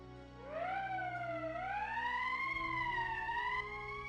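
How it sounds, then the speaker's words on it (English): Emergency siren in Valkyria Chronicles rising into a long, steady wail that wavers gently in pitch and holds for several seconds, loud and alone. "That's the emergency siren."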